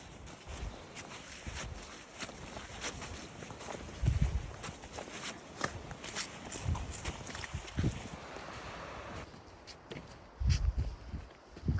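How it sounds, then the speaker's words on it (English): Footsteps trudge along a muddy trail road on a snowy hiking route, a steady series of squelching, slipping steps with a few heavier thuds, close and fairly quiet against a soft outdoor background. "I'm just slogging down this road. There's so much mud."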